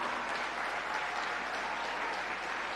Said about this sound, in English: Clap them, man. Clap them louder.